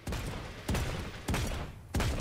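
Four evenly spaced gunshots ring out in the online battle royale game Realm Royale, each a sharp booming report followed by a short rumbling tail, loud and close with no talk.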